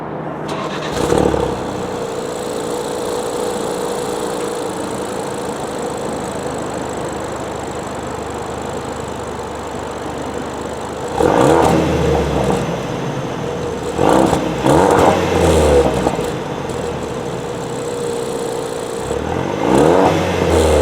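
A 2016 Ford Focus RS with its 2.3-litre engine cranks and fires, then settles into a steady idle broken by a few short, sharp revs near the end, heard up close with no talking.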